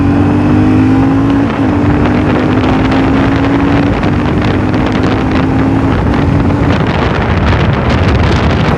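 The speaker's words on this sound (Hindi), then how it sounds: "ये मैंने अप शिफ्ट किया 3rd गियर पे" A motorcycle rides on after an upshift into third gear, its engine droning steadily under heavy wind buffeting on the microphone, loud and continuous with a slight drop in pitch near the start.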